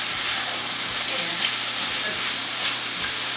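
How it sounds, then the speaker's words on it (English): Mushrooms sizzle steadily in a frying pan, a dense continuous crackle and hiss close by with light stirring, no talk. "once the mushrooms start cooking, they really sweat down"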